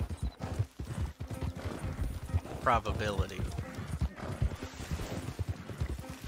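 Horse hoofbeats in Red Dead Redemption 2 Online, a rhythmic clip-clop that keeps going under frequent talk, with a brief whinny near the middle.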